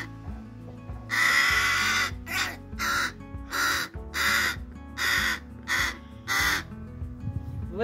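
A crow caws repeatedly in a residential yard, loud, close harsh calls coming in a steady series of about seven bursts over a low background hum.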